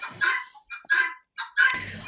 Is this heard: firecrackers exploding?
no